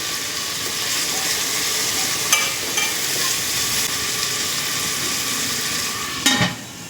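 Chopped tomatoes fry in a pan of cooking base for chicken, prawn and egg biryani, a loud, even sizzling hiss throughout with a couple of brief stirring scrapes, one near the end, and no voices.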